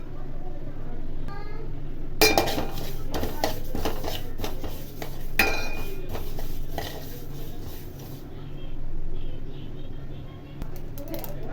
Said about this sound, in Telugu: ముందుగా బాండి పెట్టుకొని స్టవ్ ఆన్ చేసేసి నువ్వులు వేసి డ్రై రోస్ట్ చేసుకోవాలి